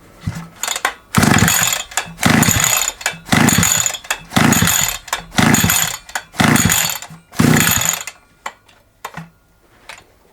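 An SGS Engineering 52cc petrol strimmer engine fires and runs in loud, rhythmic bursts about once a second, revving and dropping repeatedly before cutting out, very close with no talk.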